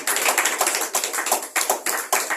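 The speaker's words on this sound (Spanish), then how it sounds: "Dale un fuerte aplauso al Señor." A church congregation claps together in praise, quick, regular claps in a strong, even rhythm, close and clear without talk.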